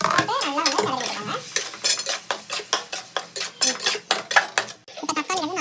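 Chopped tomatoes being stirred in a pan for chicken gravy, a spoon scraping and clinking against the metal in a quick irregular rhythm, loud and close, with faint sizzling underneath.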